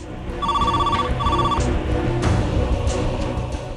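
A telephone rings in a home, two bright electronic trills in quick succession over a background music bed.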